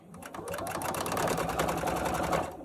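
Close, continuous whir of a sewing machine back stitching a hanging towel, running steadily for a couple of seconds without pause.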